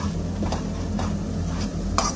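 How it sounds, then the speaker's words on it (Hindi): Karela and chicken fry over low heat in a pan, a steady soft sizzle with a few light stirring scrapes and clinks of a utensil, no talk. "इसको भुनेंगे 5 से मिनट के लिए, 5 से 7 मिनट के लिए, हल्की आंच पे"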